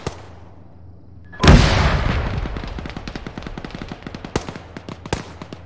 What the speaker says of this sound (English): it's shooting at us now with contact northeast